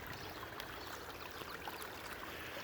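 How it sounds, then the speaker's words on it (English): A small creek trickles beside a walking path, a faint, steady wash of running water with no pauses, heard outdoors at some distance. "a little mini creek alongside the walking path"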